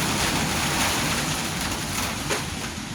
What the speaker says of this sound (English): The wind is ripping right now.